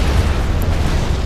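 A loud, continuous rumbling explosion from the video game Command & Conquer Generals Zero Hour fills the moment with a dense, sustained boom and no pauses.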